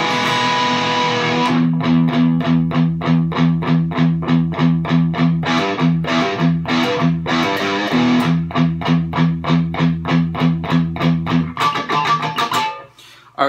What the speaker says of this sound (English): an overdubbed third guitar track comes in is adding kind of like the little icing on the cake stuff that you hear